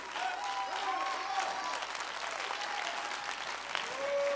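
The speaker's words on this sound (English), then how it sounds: "You see these ladies clapping their hands?" Women in an audience applaud steadily, a dense, close clapping that fills the room for several seconds, with faint voices mixed in.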